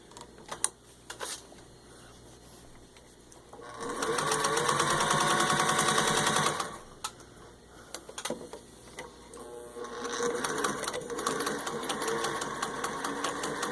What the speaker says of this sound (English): So basically I'm going to show you how well it stitches.